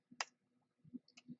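Two sharp computer mouse clicks about a second apart, close and quiet, marking the save of an STL export in inLab SW 18 dental software, with faint low desk noise between them.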